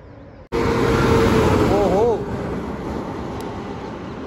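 Loud roadside roar of vehicles rushing past at speed, a dense continuous whoosh that swells then eases slightly, with a voice briefly over it.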